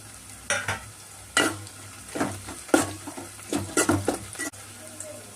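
Green chillies frying with onions already browned golden in a pan for a country chicken curry, heard as close sizzling broken by uneven scraping bursts as the mix is stirred, with no voices.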